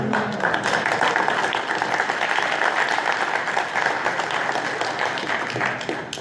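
Applause at a data center public hearing, a room of people clapping steadily and fairly loudly for the court reporter, a dense even patter that holds for several seconds.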